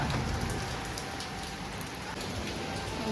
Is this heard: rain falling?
yes